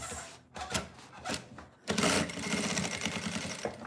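A sewing machine stitches fabric in short bursts, then runs in a continuous rattling stitch, close and clear with no talk.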